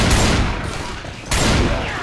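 Gunfire in a video game, loud continuous rattling shots in two dense bursts separated by a brief lull.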